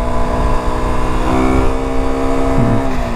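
KTM RC 125 motorcycle accelerating to overtake, its small single-cylinder engine whining loudly and steadily with pitch rising through the gear, heard close from the rider's position with wind noise, no talking.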